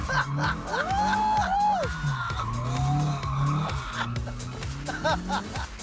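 A car does a handbrake turn at a motorsport event, tyres squealing and skidding loudly in rising and falling sweeps over a revving engine, with a crowd and voices around.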